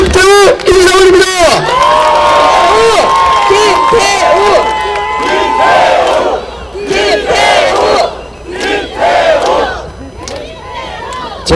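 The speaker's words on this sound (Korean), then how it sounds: "여러분 큰 박수 부탁드립니다." A dense crowd cheers and shouts at an outdoor by-election campaign rally for a Gangseo district mayoral candidate at Balsan Station, with loud, close, chant-like yells rising and falling in bursts throughout.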